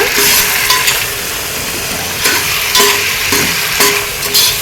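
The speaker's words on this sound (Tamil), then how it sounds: "இதையும் சேர்த்து நல்லா வதக்கிக்கோங்க." Tomatoes and yogurt sauté in hot oil for Sunday chicken biryani, a loud close sizzle punctuated by repeated scraping stirs of a spatula against the pan, no voices.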